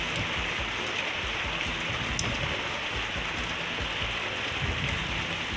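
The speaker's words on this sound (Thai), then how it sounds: "ฟ้าฝนกำลังเทลงมาอย่างหนัก" Heavy rain pours down in southern Thailand, a dense, steady hiss of drops drumming on surfaces without a break, close and loud throughout with no voices.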